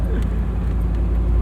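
A 1977 Ford Bronco driving, with a loud, steady, low engine and road rumble that runs continuously without breaks.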